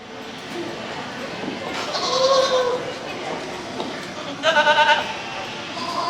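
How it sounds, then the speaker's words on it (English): Goats at a livestock show bleating twice in wavering calls, one drawn out and one pulsing, over a busy background of crowd chatter and voices. "Good set of goats here, some quality, and just some differences."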